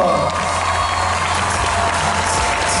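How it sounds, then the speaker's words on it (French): An audience at a European Cosplay Gathering event at Japan Expo 2014 claps loudly and steadily throughout, dense, continuous applause from a large crowd filling the hall. "Shinju, Livia, on l'applaudit très très fort"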